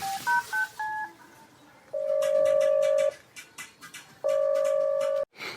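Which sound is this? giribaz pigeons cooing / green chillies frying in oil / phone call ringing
phone call ringing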